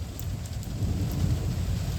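Heavy rain pouring steadily during a severe thunderstorm in Laporte, Indiana, a dense continuous roar with deep low rumble underneath; no voices.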